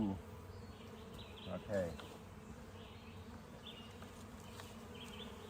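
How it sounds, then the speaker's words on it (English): Honey bees buzzing around an open beehive during a June hive inspection, a continuous close swarm drone with individual bees passing near, while a person speaks briefly and handles equipment. "You can see a bunch of bees around me"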